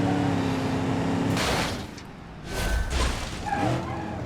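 A car in the driving game BeamNG.drive slides and skids about, a loud tyre-scrub whoosh that dips midway and then swells again, with no talk over it.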